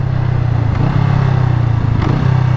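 Honda Rebel 500 motorcycle riding in second gear, a loud, close, steady engine drone with small pitch shifts as the throttle changes, under wind.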